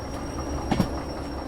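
A freight train in the Derail Valley simulator rolling along during shunting at a steel mill, with a low steady rumble, a couple of brief clunks and a faint brake squeal, heard alone.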